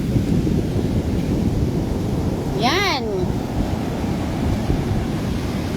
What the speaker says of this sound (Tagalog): Ganyan po ang dagat ngayon dito sa Zambales. Nakakatakot.